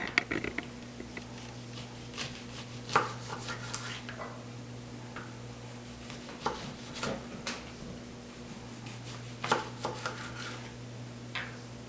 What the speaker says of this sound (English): Now I'm going to cut some oranges in wedges.